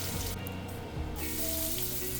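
Shallots, garlic and chilies sizzle in hot cooking oil in a wok over high heat, a dense, steady frying hiss that briefly thins before swelling back to full crackle.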